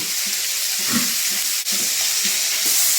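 Cubed eggplant frying with turmeric in a pan, a steady broad sizzle running throughout with soft stirring knocks and scrapes, close and fairly loud, with no voices.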